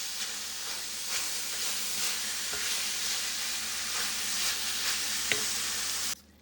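Steady, close sizzle and scraping as melting cream cheese is stirred into ground beef in a hot pan, a continuous frying hiss with occasional utensil clicks, stopping abruptly at the end.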